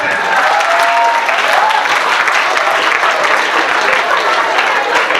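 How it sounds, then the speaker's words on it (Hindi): Loud, sustained clapping from a crowd at a comic poetry gathering in a girls' college, a thick continuous roar of hands with crowd noise mixed in from start to finish. "जोरदार बच्चे को जोरदार ताली बजाओ"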